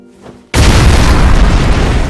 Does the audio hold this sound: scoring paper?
no